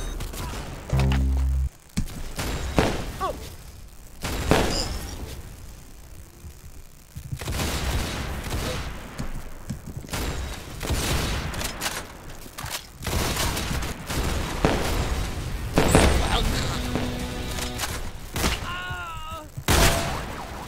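Gunfire in the Roblox game Arsenal: scattered single shots and short bursts with thuds and booms spread across the stretch, with speech over parts of it.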